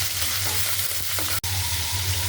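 Onion frying in oil on a stove, a close, steady sizzling hiss with a low hum underneath, briefly interrupted by a sharp click.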